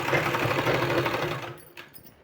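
Sewing machine stitching along the edge of a folded 4-inch fabric strip for a sleeve, a fast steady whirring run close up that stops after about a second and a half, followed by a small click.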